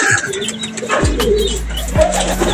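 Birds cooing nearby in a coconut grove, low soft repeated coos with occasional chirps and faint background noise.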